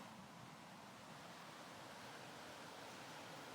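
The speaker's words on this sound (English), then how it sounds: "So the ice from the lake is going over the waterfall here." Lake ice pouring over a waterfall gives a steady, broad rushing roar of falling water, faint and unbroken, with no voices.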